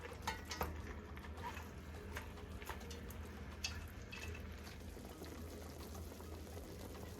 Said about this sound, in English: I'm just moving the pieces around so that every piece is coated